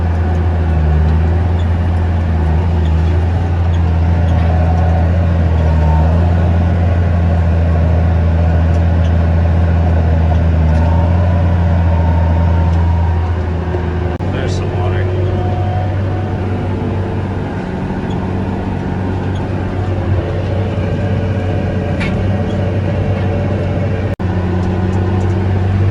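A Challenger 765B tractor pulls a Sunflower 6630 disc across idle ground, its engine a loud, steady, close drone that holds throughout with little change, with no voices.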